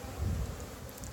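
Honeybees hum in a steady, low drone close by while a hive is opened for its first inspection, with faint rustling and no voices.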